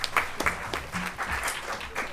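Applause welcomes a speaker at National Science Day celebrations in Hyderabad, a fairly loud stretch of clapping with distinct individual claps standing out across the short span.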